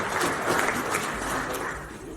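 Audience applause at the Uganda Medical Laboratory Technology Association annual general meeting, a steady dense wash of clapping from many hands that holds at an even level for the whole stretch, with no voices breaking through.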